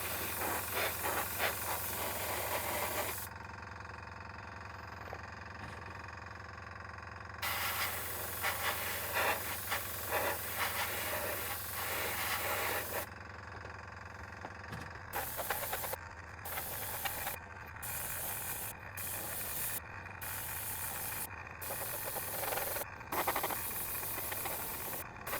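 Airbrush spraying paint onto a Tamiya model car body, a continuous loud hiss that cuts out and restarts several times, ending in short rapid bursts as the trigger is pulsed.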